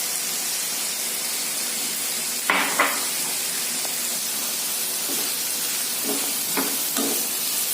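Mixed vegetables sauté in a pan, a soft steady sizzle and hiss, close by, broken by a few sharper scrapes and stirring knocks of a spoon.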